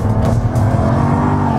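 A Jaguar F-Type roars loudly up close as it is thrown into a drift, its engine a steady, heavy growl throughout, with no voices.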